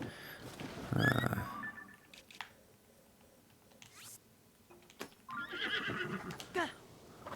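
Horse neighs in the video game The Legend of Zelda: Tears of the Kingdom, a loud whinny near the start followed by quieter snorts and hoof movement, with a brief voice talking over it.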